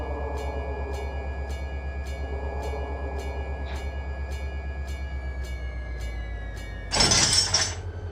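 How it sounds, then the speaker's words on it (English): In the Run 8 train simulator video game, an unloaded train slows down over a steady low rumble, with evenly spaced wheel clicks ticking past and a sharp hissing burst near the end. "I got no weight on the train, so it can get it slowed down pretty quick"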